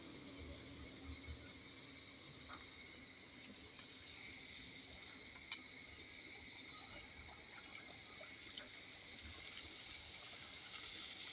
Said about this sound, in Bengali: তেলে ভাজতেছি পুরি তেলে ভাজতেছি।